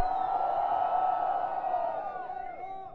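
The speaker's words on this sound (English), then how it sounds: "Let's give him another round of applause for being here." A crowd cheering and whooping loudly, a sustained roar of voices that gradually tapers off.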